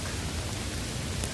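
Light rain falls in a misty protected forest at a solo campsite, a dense, steady hiss of drops close around the listener with no voices.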